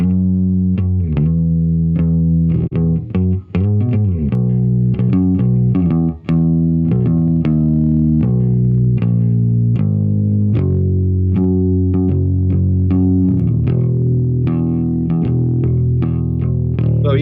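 Music with a warm, gritty tape plugin distortion on it, a loud sustained melodic line with saturated, slightly crunchy tones and no voices.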